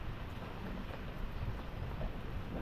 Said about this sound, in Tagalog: Nagpo-ulan na.